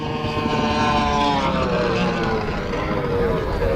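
Drag boat racing on the water at Winchester, with a steady, loud engine roar that holds throughout, a broad droning rush without pauses.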